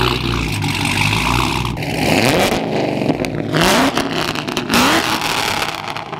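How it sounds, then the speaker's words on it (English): A supercar engine revving loudly nearby, repeated surging blips with rising and falling pitch over a constant throaty idle. "Can we rev it? Yeah, you go rev it."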